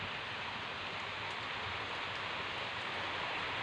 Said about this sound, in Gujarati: વરસાદ સારું છે તમે જોવો